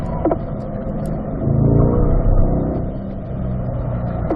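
A race car on a track with a steady, loud engine drone that swells as it accelerates and then holds at a roar, recorded close from the cockpit.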